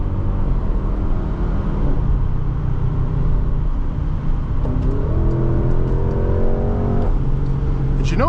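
A 2022 Porsche Cayenne GTS Coupe accelerates from inside the cabin, a steady engine drone rising in pitch through a gear as it pulls hard, with a voice talking over it.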